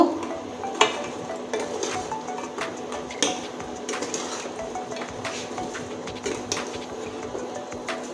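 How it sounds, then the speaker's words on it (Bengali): Crisp khurma sweets frying in a pan are turned over and over, giving a continuous low sizzle with frequent scraping and clicking strokes of the spatula at an even pace; no voices. "এবার সুন্দরভাবে নেড়ে নেব"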